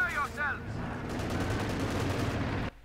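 Tank battle in Company of Heroes 2, with a Panther and a T-34 trading fire: dense bursts of game gunfire and rapid shots roll continuously, opened by a short whining tone, then cut off abruptly at the end.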